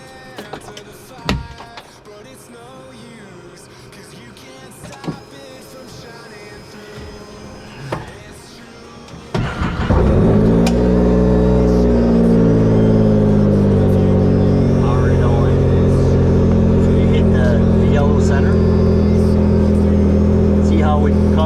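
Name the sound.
Can-Am Maverick R starting up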